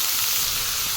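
Chopped brinjal sautéing in hot oil with cumin, mustard seeds, crushed garlic and coriander, making a loud, dense, continuous sizzle up close.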